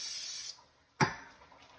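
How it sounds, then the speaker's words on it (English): Cooking spray hisses onto a baking pan for biscuits in two short bursts, a half-second spray followed by a brief pause and a second quick blast that tails off. "Let's spray it with some pan."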